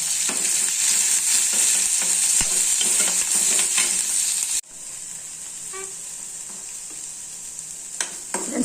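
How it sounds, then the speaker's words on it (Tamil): Carrot, onion and capsicum with mustard seeds, lentils, ginger, green chilli and fennel sauté in a pan with a loud, steady sizzle and stirring scrapes; the sizzle drops abruptly partway through to a quieter hiss, with a few faint clinks. "கேரட்டு வெங்காயம் குடமிளகாய் இதெல்லாம் நம்ம வதக்கிக்கலாம்"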